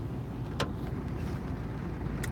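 Steady low rumble of a car's engine and road noise heard from inside while driving, with a couple of brief clicks over the constant drone and no talking.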